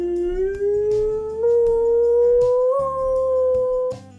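A Staffordshire Bull Terrier left alone lets out one long, clear, unbroken howl that slowly rises in pitch and then stops abruptly, loud and close, with no voices.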